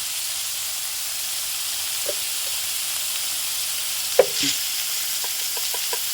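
Food fries in a pan with turmeric and salt while being stirred: a steady sizzle and hiss runs throughout, with a few soft scrapes and light clinks of the spoon against the pan, no talk.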